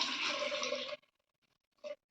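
Water poured into a cooking pot while preparing a traditional Tulu Nadu tetla dish: a steady, close splashing gush for about a second, then near silence, then a second short burst.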